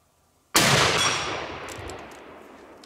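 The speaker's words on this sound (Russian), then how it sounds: "Сейчас попробуем, стрельнем." One sharp, loud report from a Los 145 hunting carbine in .308 caliber, fired outdoors after a quiet moment, with a long echoing decay trailing off afterward.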